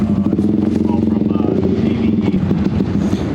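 A modified off-road vehicle engine with about 375 horsepower from 30 PSI of boost runs steadily after starting on a trail. It gives a loud, continuous rumble close to the microphone, with no talk.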